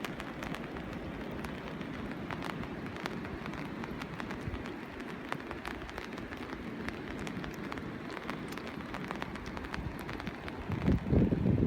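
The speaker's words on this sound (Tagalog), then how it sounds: "Limlim ang langit. Umuulan pa." Steady rain hisses and patters evenly throughout on a shore at low tide, with a louder burst of splashing near the end.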